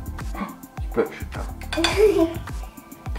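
Two spoons scraping and tapping gougère cheese dough onto a baking tray, with repeated light metallic clinks and scrapes in an uneven rhythm close by, mixed with kitchen noise and brief talk.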